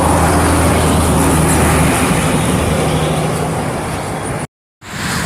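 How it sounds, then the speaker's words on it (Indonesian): Sinar Jaya SR2 HD Prime intercity bus passing on a Trans Java toll road, a loud, close, steady engine and tyre roar with a brief dropout near the end. "ada bis Sinar Jaya SR2 HD Prime"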